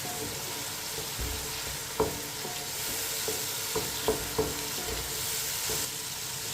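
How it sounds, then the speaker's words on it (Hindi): Chopped tomatoes and green chillies fry in a pan with a steady, close sizzle, and a spoon gives occasional stirring knocks against the pan. "टमाटर को 3 मिनट के लिए पका लेंगे।"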